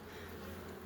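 Carniolan honeybees buzz around a hive, a brief, faint, steady drone.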